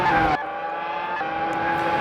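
Race cars in a racing video game at the Malaysian Grand Prix: a sharp engine burst cuts off, then a steady whining drone of cars continues, with faint brief squeal-like accents.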